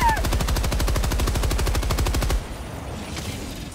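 Rapid automatic gunfire in Helldivers 2, a steady loud stream of shots for a couple of seconds that cuts off abruptly, leaving a quieter rumbling battlefield background.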